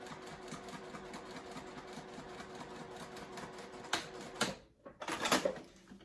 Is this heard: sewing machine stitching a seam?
yes